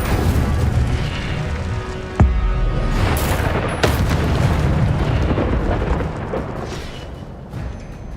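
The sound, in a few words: Incendio fire spell cast in video game Hogwarts Legacy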